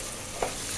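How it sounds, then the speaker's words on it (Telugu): Onions and tomatoes fry in oil for a fish curry, giving a soft, steady sizzle that stays faint and brief with no talking. "ఆనియన్స్ వేగిపోయి చక్కగా టమాటాలు వేసుకున్నాం"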